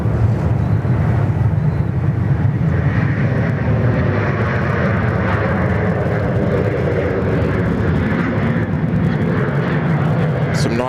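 A 700-series jet airliner takes off from a runway at Sydney Airport, a loud, continuous engine roar with deep rumble and broad hiss that stays steady throughout, with a little wind buffeting on the microphone.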